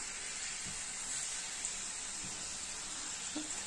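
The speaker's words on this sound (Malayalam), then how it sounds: "എണ്ണ ചൂടായിട്ടുണ്ട്. അപ്പൊ അതിലേക്ക് ഈ ചിക്കന്റെ പീസസ് ഇങ്ങനെ നമുക്ക് ഇട്ട് കൊടുക്കാം." Chicken pieces dropped into hot oil for a chicken biriyani give off a steady, soft sizzling hiss with a few faint pops, fairly quiet throughout.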